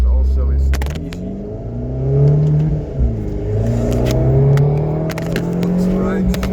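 Abarth 595c with a stage 2 Record Monza exhaust revs hard, its engine note rising and falling in strong surges close by, while someone talks over it throughout.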